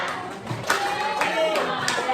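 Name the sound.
classroom clapping game 'tepuk cinta'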